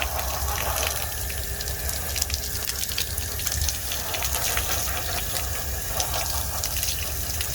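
Water gushing steadily into a swimming pool being readied for a robot pool vacuum, a continuous rushing, splashing flow at an even level, close by, with no voices.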